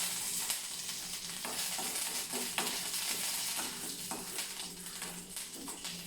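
Curry leaves sizzle and crackle as they fry in a hot pan, a steady close frying hiss with scattered pops and occasional stirring scrapes.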